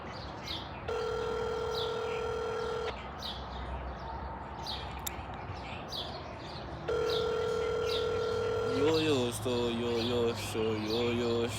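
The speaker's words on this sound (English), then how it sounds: "I know this ringtone" A phone ringtone plays in two bursts of sustained synthetic tones, the second breaking into a rapid warbling trill, fairly quiet over a faint background of bird chirps and room noise.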